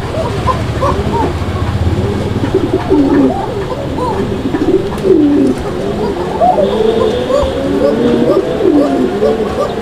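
Shalik koka pigeons coo repeatedly in a busy loft, many overlapping calls near and far, with faint background voices and some dog-like noise under the steady flock.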